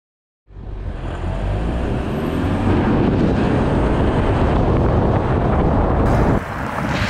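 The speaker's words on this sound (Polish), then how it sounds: "Samochody rozpędzają się równolegle do 60 km na godzinę." Audi with a V6 and a Mercedes accelerating side by side up to 60 km/h in a parallel braking contest, a loud continuous roar of engines and rushing wind that stays steady for several seconds, easing slightly near the end.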